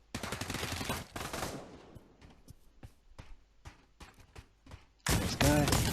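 Shotgun fire in the Pavlov VR game: repeated sharp blasts in rapid bursts at the start and end, with scattered single shots and faint chatter in between.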